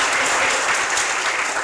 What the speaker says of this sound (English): A round of applause for them and their outstanding work.